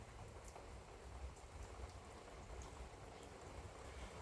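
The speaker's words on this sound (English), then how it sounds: "You guys hear the rain?" Steady rain falls outside, a soft continuous hiss of drops on surfaces with no pauses, fairly quiet and even throughout with no voices.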